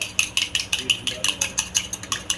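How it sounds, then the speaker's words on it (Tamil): A spoon stirs tomato chutney with salt in a quick rhythmic series of light clinks and scrapes, about a dozen strokes in a couple of seconds, close and steady. "ஊற்றிட்டு லைட்டாக உப்பை போட்டு ஒரு கலக்கு"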